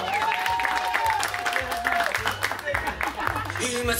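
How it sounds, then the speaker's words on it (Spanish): At a family gathering, a crowd applauds beneath loud music with singing. The clapping forms a busy layer that rises and falls against the steady beat and the vocals. "¡Aplauso!"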